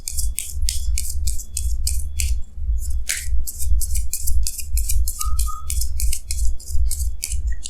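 Crisp, rapid snapping and sliding of tarot cards being drawn from a deck, repeated in quick regular bursts over a low steady hum, close and loud with no talking.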